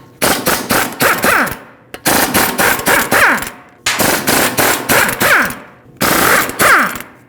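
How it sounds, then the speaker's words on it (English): A pneumatic impact wrench with a 17mm socket hammers out lug bolts on a Mercedes-Benz GLC300 front wheel, four loud rattling bursts of rapid clatter close up, separated by brief pauses. "use a 17mm socket and remove all 5 lug bolts and pull the wheel off"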